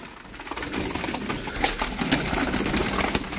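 Domestic pigeons, a group of about thirteen birds kept together for sale, cooing continuously and close by, with soft overlapping calls and faint wing or cage noise.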